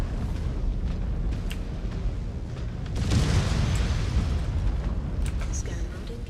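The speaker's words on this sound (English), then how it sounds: "Artillery!" Artillery explosions rumble and boom in MechWarrior 5: The Clans, a deep, sustained roar that swells midway through amid battle noise while a voice talks over it.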